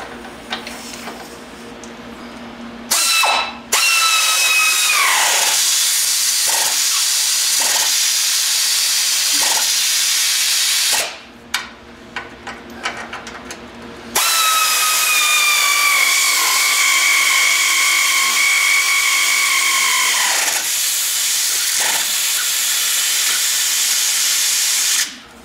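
Pneumatic power tool tightening bolts on a Ford F150 truck frame in a garage, sounding as loud sustained whirring bursts with short gaps and quick taps between, one long run at the start and another toward the end.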